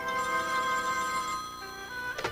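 A telephone bell rings steadily in a quiet room, a sustained bright tone that runs through the moment before a sharp brief knock or clatter near the end.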